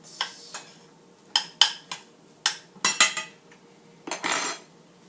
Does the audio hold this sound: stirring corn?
yes